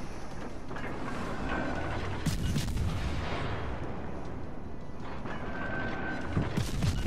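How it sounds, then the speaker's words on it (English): Naval guns of the German destroyer G-101 boom repeatedly in World of Warships Legends, heavy dense bursts of fire over a constant roar of battle, with two louder salvos standing out and no voices. "And having switched to HE, now our shells are actually doing a little bit of damage"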